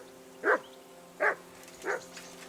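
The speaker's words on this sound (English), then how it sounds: "that barking's driving me nuts" Three separate dog barks from a companion hound in the medieval role-playing game Kingdom Come: Deliverance 2, evenly spaced and fairly close, each short and sharp over a quiet steady background hum.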